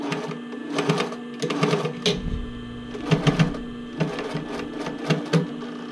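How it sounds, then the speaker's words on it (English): A sewing machine runs a straight stitch across a sports bra strap, whirring in short rhythmic bursts with brief stops between them, close and moderately loud, with no speech. "And I'm going to stitch across, straight stitch, just to secure it."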